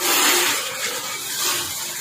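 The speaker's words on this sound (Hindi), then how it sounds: "सबसे पहले इसमें डालेंगे हम पानी।" Water, 16 litres, poured into a mixing machine for making emulsion paint: a steady, broad rushing splash that runs continuously and fairly loud at close range, with no talking.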